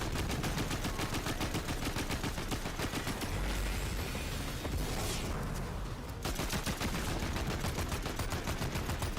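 Video-game gunfire crackles in rapid, evenly spaced bursts, loud and close, with a brief pause partway through before the shooting resumes; no one speaks.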